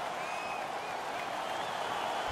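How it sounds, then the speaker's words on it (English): Hockey crowd in the NHL 17 video game cheering after a fight, a steady dense roar of applause and cheering from a large arena audience, evenly loud throughout with no distinct individual voices. "The crowd is so pumped right now."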